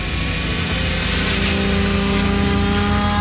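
An HK-500CMT 3D radio-controlled helicopter lifting off, its rotor and motor whine loud and steady throughout, close by with a constant droning tone and no talking.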